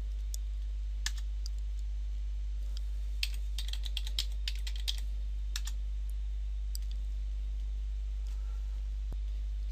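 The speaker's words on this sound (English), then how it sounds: "Now you can type sudo make" Quiet computer-keyboard typing while a terminal command is entered, with several short bursts of clicky keystrokes over a steady low hum, clustered around the middle and ending with a single keypress.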